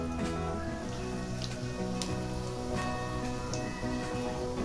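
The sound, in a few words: cumin seeds and whole spices sizzling in hot oil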